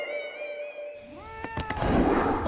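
A cat meows in an anime scene, a clear rising tonal cry sounding over a sustained musical tone, followed by some clicks and a swell of background noise.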